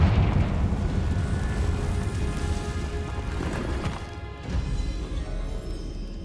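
A Confringo blasting spell explosion in Hogwarts Legacy, heard as a loud, sustained crackling rumble of blast and debris that fills the clip, then eases slightly before the end.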